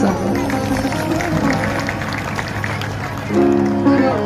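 Audience at a Bhagavat Katha religious discourse claps together, a continuous loud crowd clatter lasting several seconds, with a voice and tonal sound rising near the end.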